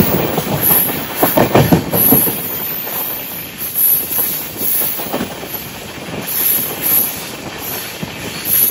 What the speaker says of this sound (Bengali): ট্রেন আমাদের 3:50-এ ঢুকিয়ে দিয়েছে পুরীতে